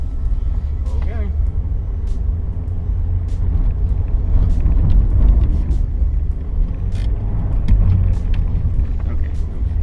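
A manual-transmission car accelerates hard and spins on a track, its engine a deep, loud rumble that rises and falls under ongoing conversation inside the car.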